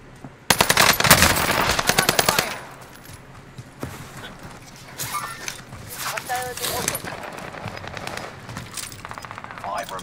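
Rapid automatic gunfire from a firefight in Warzone on the Fortune's Keep map, loud bursts early then scattered, more distant shots, with a player talking over it.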